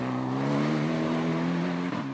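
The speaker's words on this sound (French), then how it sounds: "C'est la première fois que Germain Bonnefils prend le volant de sa nouvelle voiture." A Renault Mégane racing car driven on a circuit, its engine holding a loud, steady drone with stable harmonics throughout, a slight dip near the end, and no voices.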